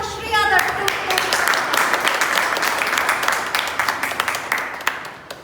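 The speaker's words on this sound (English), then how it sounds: "Let us give a big round of applause" Members at a Toastmasters club meeting clap in a brisk round of applause, many separate claps close by, with some talk mixed in, tapering off at the end.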